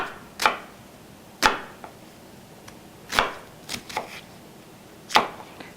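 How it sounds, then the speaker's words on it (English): A kitchen knife cuts through an onion on a cutting board in separate crisp chops, about half a dozen irregularly spaced slices, close and clear with no talking. "for the onion, you just want to make little slices"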